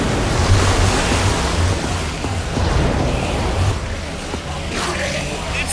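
Water rushes out of a lever-operated mechanism in Minecraft: Story Mode, a steady, loud broadband gush like surf that fills the whole moment without pause.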